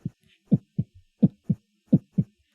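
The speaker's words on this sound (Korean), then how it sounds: "제 심장은 고동치기 시작했습니다" A heartbeat sound effect in a Korean radio story, soft doubled thumps repeating in a steady lub-dub rhythm, clear and alone against silence.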